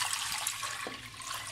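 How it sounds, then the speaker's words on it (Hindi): Water runs steadily into a metal pressure cooker, a continuous splashing pour over a brief moment. "प्रेशर कुकर में मैंने पानी लिया है"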